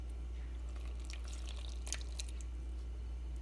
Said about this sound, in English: now I'll add some water